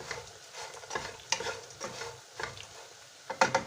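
A spoon stirs Albanian-style fried liver sprinkled with finely chopped parsley in a pan, giving soft rhythmic scraping strokes over a faint, steady sizzle at close range.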